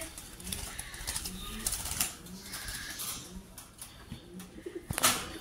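Pet pigeons coo softly in repeated low phrases nearby, mixed with occasional sharp clicks and brief flutters of wings.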